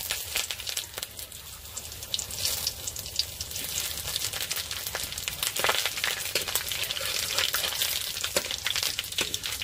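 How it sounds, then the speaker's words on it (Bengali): Dried red chillies, bay leaves and five-spice seeds crackle in hot mustard oil in a wok, a close, steady sizzle with scattered pops and spits running throughout. "কড়াটা আবার তুলে দিচ্ছি সাঁতাল দেওয়ার জন্য। দিয়ে দেবো সর্ষের তেল, দিয়ে দেবো শুকনো লঙ্কা"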